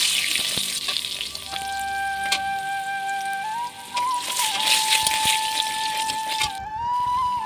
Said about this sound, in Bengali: আলুগুলো ভাজার পর আমি আলাঞ্জিগুলো ভালো করে ভেজে নিব